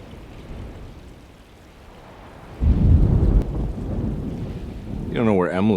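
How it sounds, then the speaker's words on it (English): Thunderstorm in the video game Alone In The Dark: a low rumbling roll of thunder swells in mid-clip over steady rain and wind, with a voice speaking near the end. "Just keeping an eye out for the storm. Radio says it could be a wild one."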